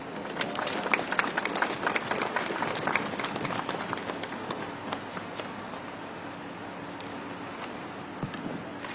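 Audience applause for the first-place winner of an MLK speech contest at a street renaming ceremony in Milwaukee, a dense patter of many hands clapping, strongest early and thinning gradually toward the end.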